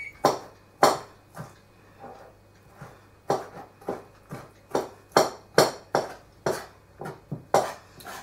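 Repeated sharp knife strikes on a cutting board, a dozen or so chops in an uneven rhythm with brief pauses, close and fairly loud.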